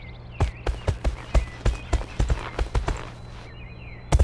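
Horse hooves gallop in the My Horse And Me video game, a rapid, even run of loud clip-clop beats over steady background music, pausing briefly before a final burst of hoofbeats.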